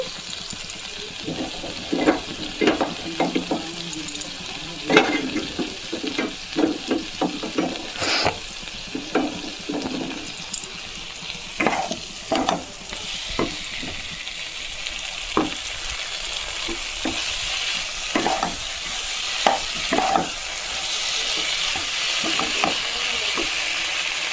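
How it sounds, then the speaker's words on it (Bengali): Cauliflower florets and potatoes sauté in a pan for a paneer-cauliflower curry, a constant sizzle punctuated by repeated sharp scrapes and knocks of a stirring spoon, close and fairly loud. "ফুলকপি আলুটা একটু কষে নিয়ে তারপরে জল দেবো।"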